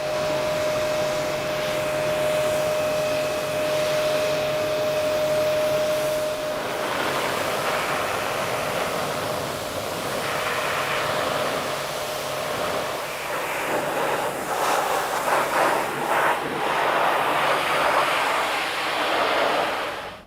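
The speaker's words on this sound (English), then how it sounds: "So now it's time just to gently rinse off the shampoo." A water hose steadily rinses shampoo off a motorhome, a continuous broad spray hiss filling the clip with shifting splashing texture, and no speech.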